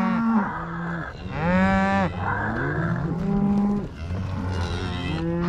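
Cattle on a Montana ranch cattle drive moo loudly and repeatedly, several animals calling close by with long, overlapping, pitch-sliding bellows that barely pause.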